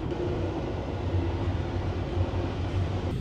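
A sleeper train running from Montreal to Halifax gives a steady low rumble with a constant mechanical hum, heard from inside the car, even and unbroken with no talk.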